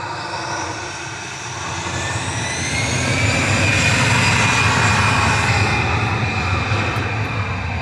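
An A320 airliner at Manchester Airport spools its jet engines up during a rejected takeoff, producing a loud, broad roar that swells and holds steady with a faint whining tone, heard from a distance.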